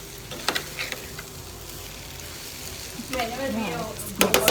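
Dry moong dal kachori stuffing spiced with garam masala and chili powder is stirred and mixed in a pan, giving a steady scraping rustle with a few sharper clinks, and a brief voice speaks near the end.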